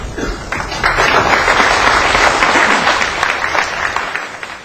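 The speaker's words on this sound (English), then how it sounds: "He got a little applause as he went back to his chair." Audience at the 2005 World Pool Championships applauds a player, a sustained even round of clapping that swells after a moment and tapers slightly, heard alone.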